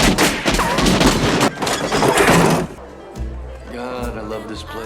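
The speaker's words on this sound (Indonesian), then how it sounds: "Marlboro tanpa ragu menembakkan pistol itu ke motor lamanya sambil tertawa" Pistol shots fired at an old motorcycle ring out as a dense, loud volley of bangs that gives way to quieter scene noise, with a narrator speaking over the shots.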